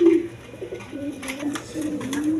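Several pigeons coo in low, rolling, repeated calls from close by, with some brief rustling around them and no voices.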